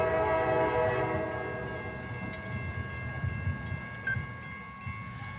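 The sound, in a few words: CSX two-engine train passing Decatur depot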